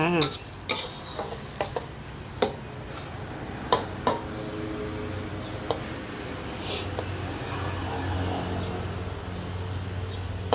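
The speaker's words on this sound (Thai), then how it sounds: "นี่เสร็จแล้วเราก็ไปทำการ ตักใส่จานพร้อมเสิร์ฟกันเลยจ้า" A spoon scrapes and clinks against a pan and plate as stir-fried straw mushrooms with chili are scooped out. Several sharp metallic taps are spread over a faint continuous sizzle that rises slightly toward the end.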